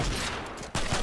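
Gunfire in Fortnite, a short dense burst of rapid shots, loud and close, with a brief gap before a second burst.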